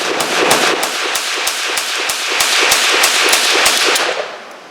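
Zastava M56 semi-automatic firing a full magazine in quick, steady succession, about fifteen sharp close shots evenly spaced over four seconds, loud and alone, ending as the last round fires.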